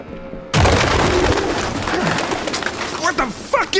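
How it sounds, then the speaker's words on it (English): Pigeons coo and flutter in an abandoned building in the video game Detroit Become Human, a busy close bird soundscape with rustling and overlapping calls starting abruptly after a brief quiet moment. "Birds. Lots of birds. Jesus, this place stinks. Well, we got a lot of pigeons."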